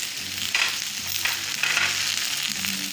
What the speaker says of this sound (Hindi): भिंडी को चला लेते हैं, फ्लेम हमें हाई रखना है